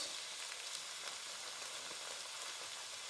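Green chili paste and grated ginger sizzle in hot oil in a kadai while veg Manchurian gravy cooks. The frying makes a steady, dense crackle with no voices over it.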